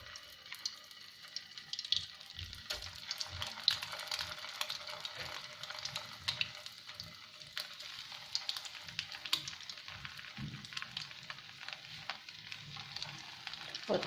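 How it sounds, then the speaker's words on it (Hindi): Egg-dipped bun kababs frying in hot oil, a soft continuous crackle and sizzle with scattered pops and faint utensil sounds, fairly quiet throughout. "इस तरीके से कबाब डिप करेंगे और फ्राई करते जाएंगे।"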